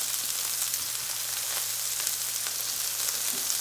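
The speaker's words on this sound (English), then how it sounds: "We're going to saute this up so the onions are translucent." Onions sautéing in olive oil in a pan, a continuous close, bright sizzle with faint crackles holding steady throughout, no voices.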